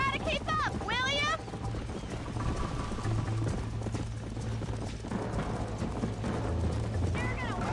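Horse hooves clip-clop at a gallop in the Red Dead Redemption video game, a rapid rhythmic drumming with a whinny, mixed with voices and game sounds.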